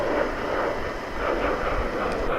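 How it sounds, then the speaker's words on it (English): A Boeing 737 airliner taking off at DFW Airport gives a steady, broad jet roar that holds at an even, moderate level from a distance. "We've got another 737, which is about to lift off for Guadalajara."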